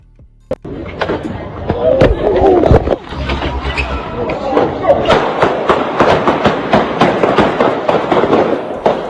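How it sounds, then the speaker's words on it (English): Sharp bangs and pops ring out amid loud crowd noise and chatter, one or more gunshot-like cracks near the start, from replayed footage of the shooting involving Takeoff. "Hear the gunshot?"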